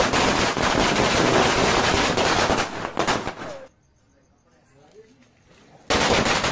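Rapid crackling bursts of firecrackers going off in an Indian village in a dense, loud string, then a sudden quiet stretch before another loud burst erupts.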